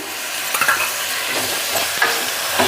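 Finely chopped tomatoes fry in hot oil with ginger garlic paste for a mushroom curry, giving a steady bright sizzle with a few spoon scrapes and stirs breaking through, close and fairly loud, with no voices.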